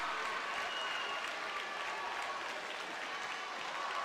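Crowd applause at a junior roller derby world cup game between Belgium and the USA, steady dense clapping from a distant audience filling the hall, fairly faint and continuous.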